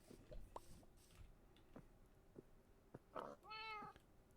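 Cat meowing in the Minecraft video game, a few soft scattered game sounds, then one clear drawn-out meow near the end.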